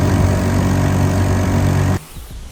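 Honda 2.3 outboard motor running on a kayak, a loud steady mid-pitched engine drone that cuts off abruptly near the end, leaving faint knocks and near silence.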